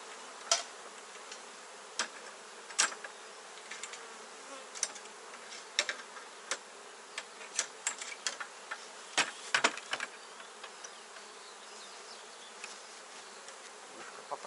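Honey bees buzz around an open hive during a honey harvest before the main nectar flow: a soft, steady insect drone with scattered sharp clicks and taps from hive handling, and no talk.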